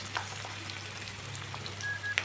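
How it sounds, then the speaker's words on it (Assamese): Onions frying in a pan with panch phoron spices give a steady, soft sizzle throughout, with a few small pops and crackles. No one is talking. "এতিয়া পিঁয়াজখিনি মই ভালদৰে ভাজি ল'ম"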